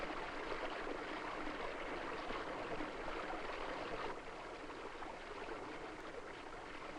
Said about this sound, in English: This is the first sampling site close to the source of Cold Creek.